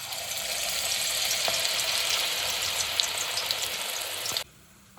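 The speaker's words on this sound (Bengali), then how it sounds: "এবার আমি পালং পাতাগুলো একটা একটা করে এর ভেতরে দিয়ে ভেজে নেব।" Spinach leaves coated in batter fry in hot oil for pakoras, a steady, dense close-up sizzle and crackle that runs unbroken for about four seconds before cutting off abruptly.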